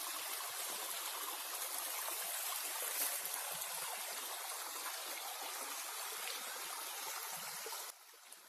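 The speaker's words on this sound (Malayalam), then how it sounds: "നമ്മൾ തോട്ടിലെത്തി." Water flows down a rocky forest stream near Oduvalli, a steady rushing hiss heard up close that carries on evenly before dropping away at the end.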